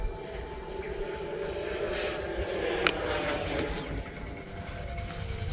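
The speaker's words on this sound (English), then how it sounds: "You can hear the air just like coursing over all the surfaces of that model" An RC model jet airplane's engine whooshes steadily nearby, with rushing air and a brief sharper peak as it passes, no talking.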